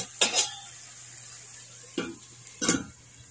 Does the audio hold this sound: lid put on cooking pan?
yes